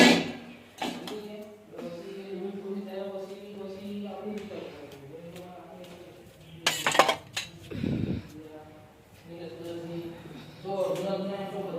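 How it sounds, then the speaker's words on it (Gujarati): Dishes and cutlery clink and clatter intermittently while a person talks nearby, with a louder burst of rattling midway. "બધા એઠા વાસણ આપણે બહાર લઈ જઈએ"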